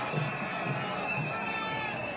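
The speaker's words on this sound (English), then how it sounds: "as the crowds get bigger at the side of the road" A roadside crowd murmurs and cheers steadily along the course of a professional cycling race in Rwanda, a distant, diffuse wash of voices.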